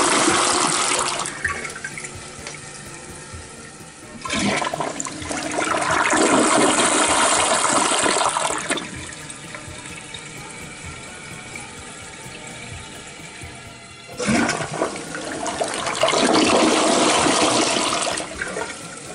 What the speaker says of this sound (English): the R360 flush creates an outstanding bowl rinse performance, and is still satisfying to watch and listen